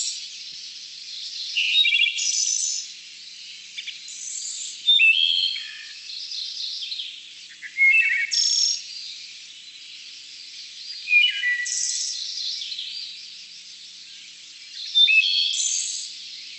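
Clear, flute-like wood thrush phrases repeat every few seconds, each a short rising and falling song with trills, heard alone in quiet surroundings.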